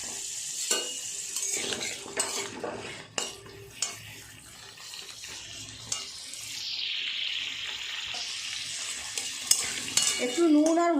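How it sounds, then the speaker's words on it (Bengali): Potatoes fry in a pan while a spatula scrapes and stirs them, with a soft sizzle and sharp metallic clinks against the pan, close and fairly quiet, with no talking. "তাই আমি প্রথমে আলুগুলোকে ভেজে নেব"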